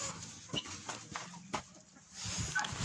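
Farmyard of guinea fowl and chickens heard fairly faint, with scattered clucks and short calls over a low rustling background, a few sharper bird cries standing out.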